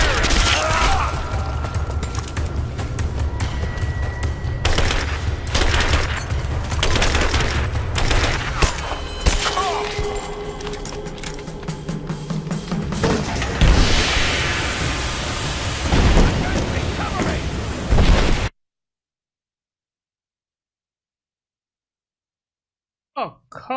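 A firefight in the video game Rise of the Tomb Raider, set in abandoned mines, brings dense rapid gunfire and bursts of automatic shots with shouting voices under them, ending abruptly in silence.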